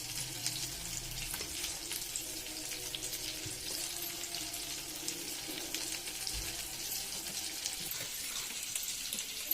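Oil heating in a pot for Konkani fish curry gives a faint, steady sizzle and crackle, with a soft hiss that continues without pause and no talk.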